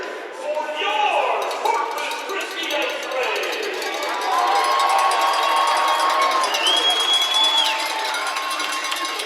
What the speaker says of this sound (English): You hear the crowd, folks.